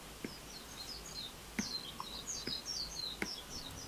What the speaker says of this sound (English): That's the birds outside my window.